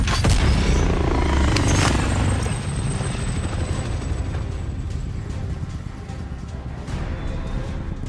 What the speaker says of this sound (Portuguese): Helicóptero hostil carregando dinheiro.